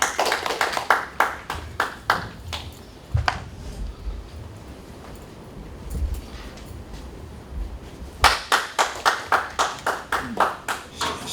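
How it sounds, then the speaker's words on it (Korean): A small audience at a Seongnam citizens' forum on low birth rates claps in bursts of distinct, sharp hand claps, with a quieter stretch of room noise between the opening and closing rounds. "박수 부탁드리겠습니다."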